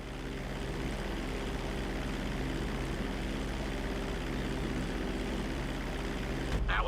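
Airplane engine droning steadily in a Grand Theft Auto V flight school lesson, a constant propeller-like hum held throughout, ending with a brief louder burst.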